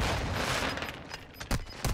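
Rapid gunfire from an online shooter match, a dense near burst of shots running nearly throughout, with a couple of louder sharp cracks toward the end.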